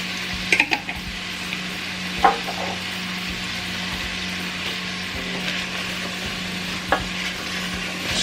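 A chickpea, broccoli and spinach curry is stirred in a pan, a soft steady sizzle running underneath with occasional utensil scrapes and taps against the pan.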